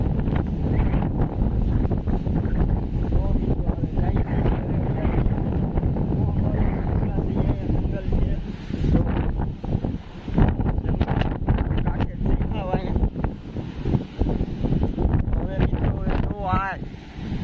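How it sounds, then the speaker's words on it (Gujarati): Strong wind from a storm at sea buffets the microphone continuously while rough waves roar in the background, with a voice talking intermittently over the noise. "કેટલો પવન એટલો છે અને મોજા એટલો બધી ઓલી સાઈડે એટલો છે"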